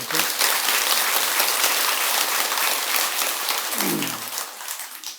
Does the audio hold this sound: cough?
no